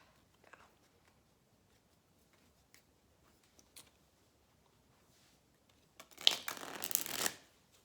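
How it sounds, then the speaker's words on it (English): Tarot cards are shuffled in one quick, crisp riffle near the end, preceded by faint scattered taps and handling noises in a quiet room. "just in case you're wondering what's happening with the shuffling"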